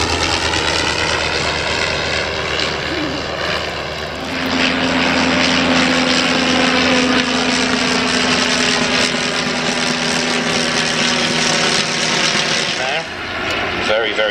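A propeller aircraft engine at a Shuttleworth airshow runs loud and close, a dense, continuous drone that swells after a few seconds and holds steady throughout, with possible voices faintly beneath.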